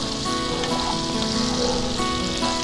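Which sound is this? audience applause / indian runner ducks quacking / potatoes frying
potatoes frying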